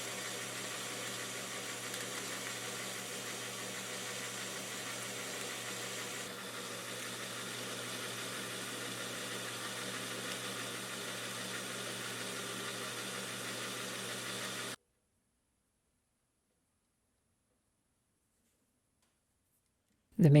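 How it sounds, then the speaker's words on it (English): A small lathe turns free-cutting 12L14 steel round bar into washers, giving a steady mechanical hum with broadband cutting noise for about fifteen seconds before stopping abruptly into silence. "let's go straight to the round bar and turn these washers."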